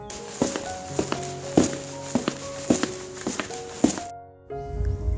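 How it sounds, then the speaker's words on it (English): Footsteps approaching a door in a story scene, a series of distinct hard thuds spaced about half a second apart over a soft background, ending abruptly before a quieter rustle. "she suddenly heard her husband's footsteps"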